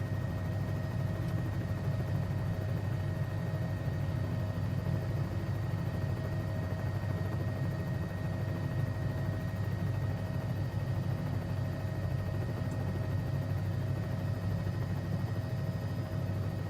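Bell 206B3 helicopter at full throttle in a flight simulator game, a steady droning engine and rotor hum with a faint high whine, constant and unbroken throughout.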